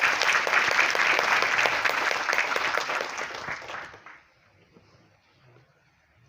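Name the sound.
audience applause for the health minister at a hospital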